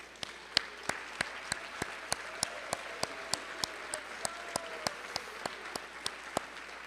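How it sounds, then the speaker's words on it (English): An audience at a high school awards night claps for parents, a diffuse wash of applause with a few sharp, regularly spaced clicks cutting through, moderately loud and steady throughout. "students, we are going to give your parents a round of applause"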